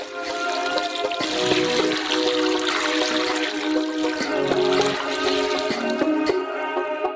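About eight liters of water pour steadily into a large pot holding forty kilograms of sugar for a crayfish dish, a continuous loud splashing rush with no talk.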